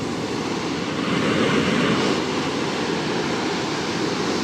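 Urumi waterfall in Kozhikode district, below the Wayanad hills, pours clear water in a steady, dense, loud rush that fills the scene without pause, no voices.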